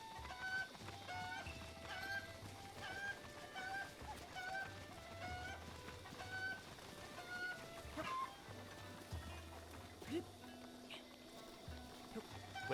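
Chickens cluck repeatedly in a video game, short clucks recurring throughout over steady low music and ambient game sounds, fairly faint and unaccompanied by talk.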